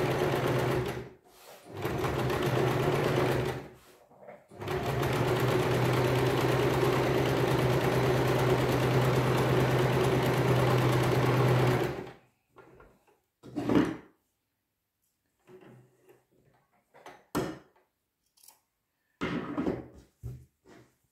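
A sewing machine stitching a sleeve cuff runs in two bursts: a short run and then a long steady hum of about eight seconds. Scattered clicks and handling knocks follow in near silence.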